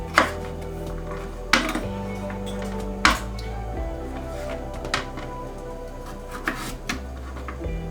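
Knife strikes on a wooden chopping board while chopping carrots: a few sharp chops with irregular gaps, close up, alongside clinking and low background hum.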